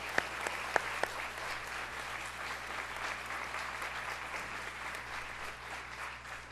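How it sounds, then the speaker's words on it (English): An audience at a Teacher of the Year event claps in sustained, dense applause for paraprofessionals, a few sharp louder claps standing out near the start before it settles into an even, continuous patter. "So if you can give a round of applause for the paraprofessionals."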